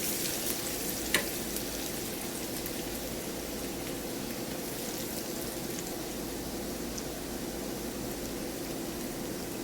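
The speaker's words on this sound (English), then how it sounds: "when the cumin seeds start crackling, we're gonna add some chopped garlic" Chopped garlic and cumin seeds fry in hot oil, giving a steady, dense sizzle with fine crackling, close and unbroken, one brief tap near the start and no talking.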